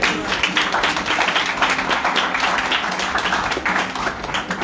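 A congregation at a Bethel Prayer House service in Ludhiana claps in thanks: dense, steady hand-clapping that fills the room throughout, with a slightly uneven rhythm and no clear pauses.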